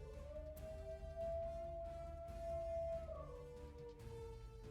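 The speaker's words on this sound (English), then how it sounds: "So you may hear some howling in the background." A dog howls from inside its crate during crate training, one long sustained wavering howl with a falling pitch near the end, faint and in the background.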